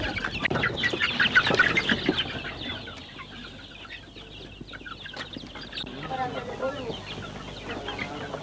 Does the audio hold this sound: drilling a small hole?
no